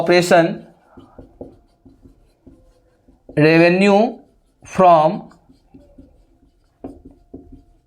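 Chalk or marker taps and strokes on a classroom board during an accountancy lesson, soft scattered ticks in short runs between stretches of a teacher talking.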